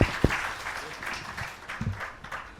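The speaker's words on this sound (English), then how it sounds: "Can we give a round of applause to the speakers?" Audience at an international arbitration colloquium applauding the panel speakers, a moderate spread of clapping with a few sharp close claps at the start and faint voices underneath.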